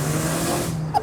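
A car's engine roars as the accelerator is floored at low speed, a loud sustained revving drone that drops away near the end, heard from inside the cabin.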